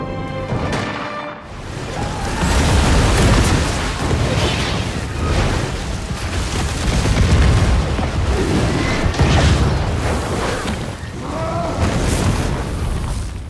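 A huge explosion in a Planet of the Apes battle scene rumbles and crashes on for many seconds, with heavy booms, debris and rolling destruction.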